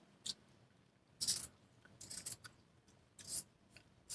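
Scissors trimming excess fabric from covered buttons, soft close snips and rustles in a few separate bursts, quiet and without talk.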